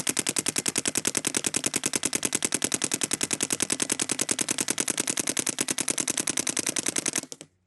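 Rapid, steady bursts of a Planet Eclipse CS3 paintball gun firing nonstop for about seven seconds, loud and close, then cutting off abruptly.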